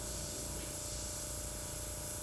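A Nicholson airbrush sprays paint with a steady, loud, unbroken hiss that holds level throughout.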